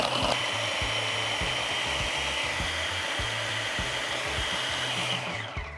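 Blender processing dates, dried fruit, nuts and coconut oil for a tart base, a continuous close whirring drone with a steady low chop that stops near the end.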